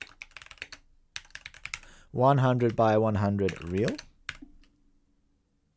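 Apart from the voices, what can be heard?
typing on a computer keyboard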